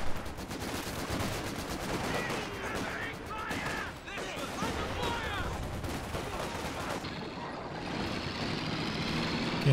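Machine gun fire in a strategy video game comes as rapid rattling bursts mixed with other game battle noise and vehicle rumble, with a commentator talking over the action.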